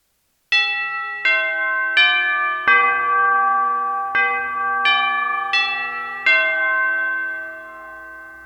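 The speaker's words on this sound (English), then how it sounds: "The chime sound is probably one of my most used sounds." Chime sample triggered from a Roland SPD-SX sample pad used in a church band, eight bell-like strikes in a descending then rising pattern, each ringing and overlapping the next, loud and clean with a long decay at the end.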